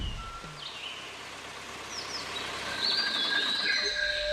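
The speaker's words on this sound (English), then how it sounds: "Did you hear the music of the bird song?" Birds chirp and whistle in scattered, overlapping calls in a forest sanctuary near Mysore, India, over a constant outdoor hiss, growing a bit busier toward the end.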